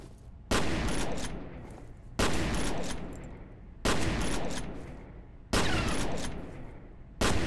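Particle rifle fire in the game F.E.A.R.: four loud, sharp blasts roughly 1.5 seconds apart, each a sudden crack that trails off into a long decaying rumble, close and alone without talk.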